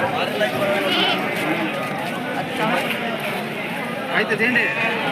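Busy outdoor livestock market with repeated sheep and goat bleats amid a crowd of voices and general bustle.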